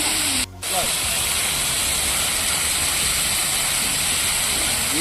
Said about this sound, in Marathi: मेन मोठा पाईप सुटला येतो पाणी तिथपर्यंत गेलं बाबा